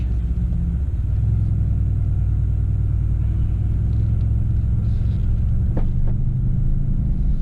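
Mercedes-AMG car at a driving experience pulling away in drive, a steady low engine rumble building gently and holding close by, with a faint click near the end.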